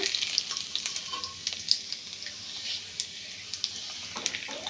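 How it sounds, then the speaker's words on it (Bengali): Rice grains frying in a pan make a steady, close crackling sizzle, with light scraping and stirring clicks scattered throughout and no voices. "এই লাস্ট চাল ভাজা আমার সব চাল ভেজে নিয়েছি"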